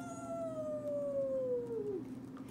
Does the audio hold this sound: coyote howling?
yes